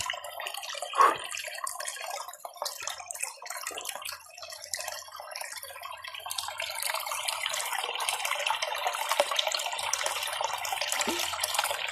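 Spring water on Kangkaluya island, flowing and splashing steadily close by, with a sharper splash near the start and a fuller, continuous rush later.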